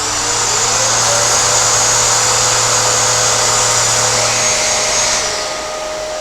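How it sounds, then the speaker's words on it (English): A rotary sander with 80 grit paper whines loud and steady while rounding over a wooden workpiece, easing slightly toward the end. "I try and hold the sander still, it's in rotary mode, and then move the workpiece accordingly"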